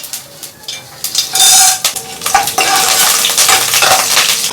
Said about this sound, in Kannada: ಎಣ್ಣೆ ಕಾಯ್ದಿದೆ ಸಾಸಿವೆ ಹಾಕ್ತಾಯಿದ್ದೀನಿ ಒಂದು ಸ್ಪೂನ್ ಸಾಸಿವೆ ಕಡಲೆಬೇಳೆ ಹಾಕ್ತಾಯಿದ್ದೀನಿ